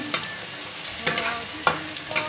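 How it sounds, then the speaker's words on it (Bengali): Chili and onion fry in a pan while being stirred, a close, bright sizzle punctuated by a few sharp scraping strokes of a utensil against the pan. "তারপরে পেঁয়াজটাও একটু নাড়তে হবে এইভাবে"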